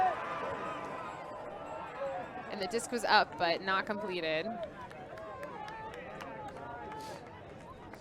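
Crowd noise rises at a 2019 Premier Ultimate League frisbee game between New York Gridlock and Columbus Pride, a broad swell of cheering and babble with a louder burst in the middle, heard under continuous play-by-play commentary.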